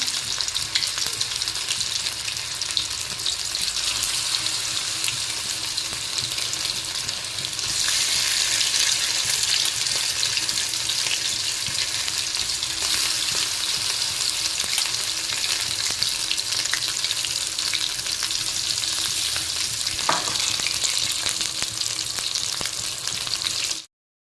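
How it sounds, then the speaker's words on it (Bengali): Amude fish frying in hot oil on a medium gas flame, giving a dense, loud, unbroken sizzle that holds steady for over twenty seconds, close and with no talk. "এক এক করে আমি মাছগুলো তেলে দিয়ে দেবো। গ্যাসের ফ্লেমটা একটু মিডিয়াম করে নেব, নাহলে ভিতরের মাছটা ভালোভাবে ভাজা হবে না।"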